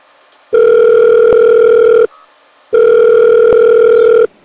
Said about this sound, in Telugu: వాళ్ళ నెంబర్ కూడా తీసుకున్నాను, ఒకసారి కాల్ చేసి మాట్లాడదాం.